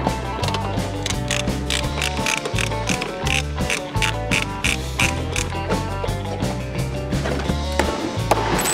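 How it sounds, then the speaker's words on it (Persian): A ratchet wrench with a short extension clicks steadily while loosening a screw on a car, the loud, close ratcheting running in quick repeated bursts the whole time. "و جغجغه"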